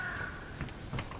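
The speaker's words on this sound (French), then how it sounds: "je sais même pas si c'est un voisin, vu que c'est un corbeau plutôt" A crow caws in the video game Hello Neighbor 2, two or three short raspy calls close by, fairly faint against a quiet background.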